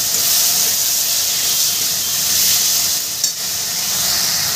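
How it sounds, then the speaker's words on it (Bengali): Ridge gourd sautés in oil with a little sugar in a pan, giving a loud, steady, close sizzle and hiss throughout, briefly disturbed by a stirring scrape near the end. "ঝিঙাটা দিয়ে দেখো একটু কষিয়ে নেব"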